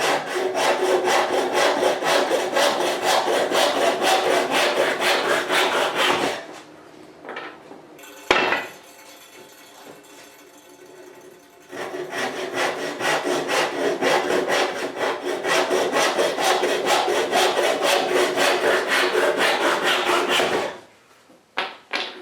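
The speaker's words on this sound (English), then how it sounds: "Now I just need to saw them to final length" Handsaw cutting wooden table legs to final length, steady rapid back-and-forth strokes loud and close, pausing midway with a few knocks before sawing resumes and then stops.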